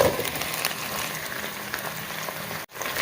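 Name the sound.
onions and zucchini frying in a pot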